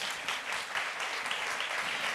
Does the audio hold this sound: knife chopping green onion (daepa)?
no